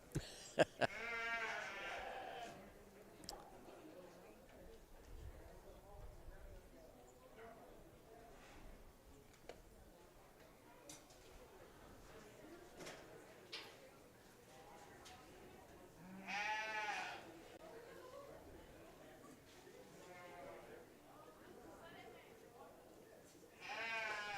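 Lambs bleat intermittently at a distance amid soft background noise and occasional voices at a county fair sheep show, with a couple of louder bleats standing out.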